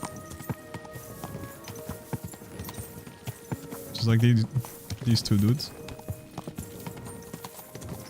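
Horse hooves clip-clop steadily in a video game, a rhythmic galloping patter under scattered talk, with two louder bursts of voice in the middle.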